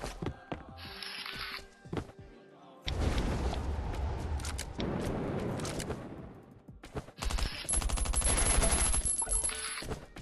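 Bursts of loud explosions from bombs falling in the video game Last Island of Survival, with rapid gunfire-like blasts crashing in clusters and brief quieter gaps between barrages.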